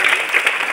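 At a school magic show, children clap in a quick, close burst of applause that is brief and fairly loud.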